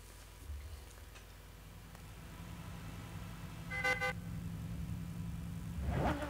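A Bugatti Veyron's engine drones steadily at Ascari in Gran Turismo 6, a low continuous hum building slightly as the car pulls away and shifts up, with a couple of short tonal chirps over it.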